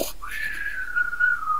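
A voice imitates a whistling snore, producing one thin, steady whistle that slowly winds down in pitch, close and alone.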